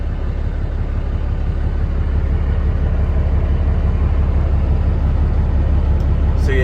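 The Cummins engine of a 2010 Kenworth T800 truck with an Allison automatic, at full operating temperature, runs with a loud, steady, deep rumble. A voice talks over it.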